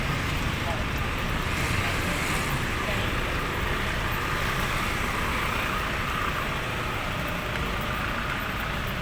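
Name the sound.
city road traffic noise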